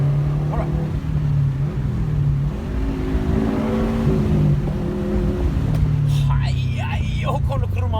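Subaru STI with a Cobb Access Port tune accelerates hard, its engine revving up through the gears in a rising, steady drone, with someone talking over it throughout.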